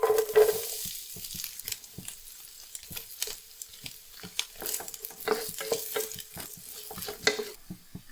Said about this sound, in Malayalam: ഇനി ഒന്ന് മീഡിയം ഫ്ലെയിമിൽ ഇട്ടിട്ട് നമുക്ക് തേങ്ങാക്കൊത്തൊന്ന് വറുത്തെടുക്കാം